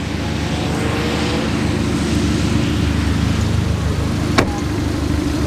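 Several 1.8-litre car engines, including a little GTI, idle together at a roadside stop on a mountain cruise, a steady low rumble with broadband wind-like noise and a brief click near the end.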